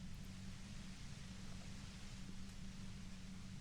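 Steady white noise static from the Disco Elysium video game, a constant broadband hiss with a low hum running evenly and faintly throughout, no voices.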